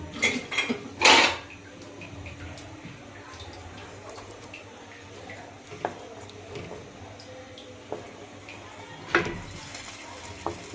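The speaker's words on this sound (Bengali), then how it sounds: "এবার আমি একটা কাঠের খুন্তির সাহায্যে খালি নাড়তে থাকবো।" Homemade ghee stirred in a pot with a wooden spatula on a lit stove: a few loud clatters at the start, then quiet scraping and occasional knocks against the pot.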